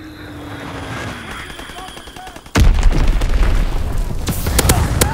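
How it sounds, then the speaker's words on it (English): Incoming enemy artillery in the Call of Duty WWII video game: one sudden heavy blast bursts in midway and leaves a loud, rumbling wash of explosions and crackling gunfire behind it, with radio voices earlier. "Incoming enemy artillery."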